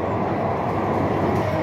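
Mumbai Metro Line 3 Aqua Line train running, a steady loud rumbling roar of the carriage in motion that holds evenly throughout, with no talk over it.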